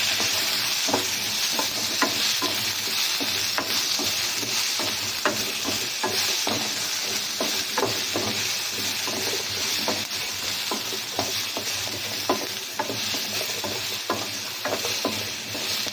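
Egg thokku frying in a little oil, a continuous close sizzle with frequent scraping and clinking stir strokes throughout, no voices.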